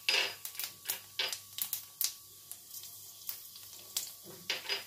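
Black cumin seeds fry in hot mustard oil with sharp crackling pops and sputters at an irregular rhythm, close and fairly loud.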